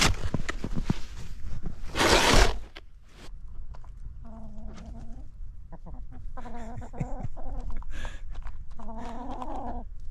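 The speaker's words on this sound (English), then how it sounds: "seeing those chickens walk down that line there." Chickens cluck in several short bursts of repeated notes, fairly close, after an opening rustle and a loud burst of noise.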